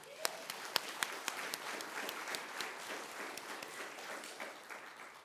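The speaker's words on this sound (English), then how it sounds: "Please give them a round of applause." Fairly faint applause from a modest library conference crowd, a few sharp individual claps standing out at first before settling into steady, scattered clapping.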